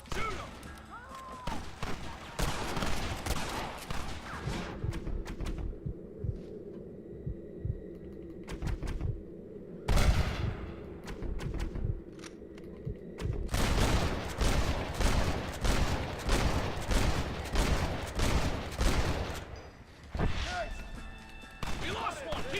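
Gunfire in a shootout from the video game Red Dead Redemption: dense, rapid volleys of shots crackle near and loud across most of the stretch, with a brief lull in the middle, while voices shout over the battle.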